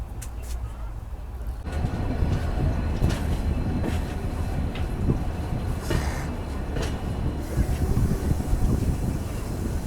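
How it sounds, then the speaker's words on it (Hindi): The Capital Express, train 13248, rolls into Lawa railway station with a sustained loud rumble and rattle of coaches, broken by a few clanks. "309 किलोमीटर का डिस्टेंस कवर करने के बाद गाड़ी अपनी पहुंच चुकी है लावा रेलवे स्टेशन"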